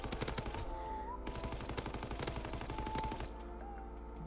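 STG44 assault rifle in Call of Duty WWII, firing loud, close bursts of rapid shots at a fast, even rhythm. The shooting pauses briefly, then resumes, with no talk over it.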